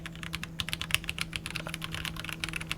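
Rapid, steady clicking of keys being typed on a Keychron C3 Pro mechanical keyboard, close up and moderately quiet, with a faint hum underneath.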